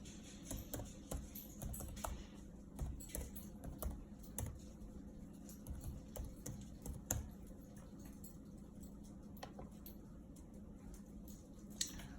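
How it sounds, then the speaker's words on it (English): Someone typing on a computer keyboard to enter account details: bursts of quiet, close key clicks in an uneven rhythm with short pauses, fairly faint over a low room hum. "bear with me for a second while I type in his information"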